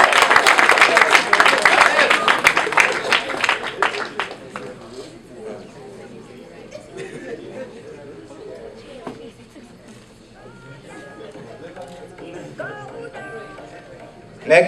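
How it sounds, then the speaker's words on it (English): Loud applause and clapping from guests at a 2017 award ceremony and dinner fill the first few seconds, then thin out and die away into quieter room sounds with scattered voices. "Give her a resounding round of applause."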